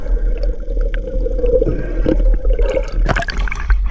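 A diver slips into murky river water where tilapia graze among water spinach, a steady low underwater rumble with bubbling and sloshing that swells into a busier splashing burst near the end, no talk.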